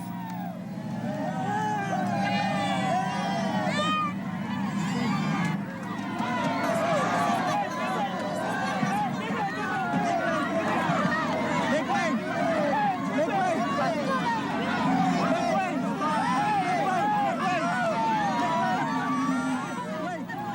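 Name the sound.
crowd of supporters surging around Imelda Marcos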